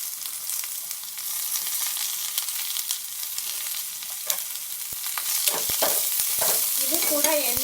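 Chopped onion sizzling in hot oil for a green chilli gravy, a steady loud frying hiss throughout, joined near the end by a run of spoon knocks and stirring.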